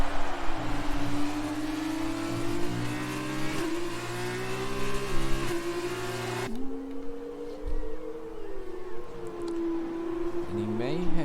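F2 race car in a racing game at Sochi, its engine whining steadily with rising and falling pitch as it accelerates through gears, with a gear-change drop partway through, under continuous commentary.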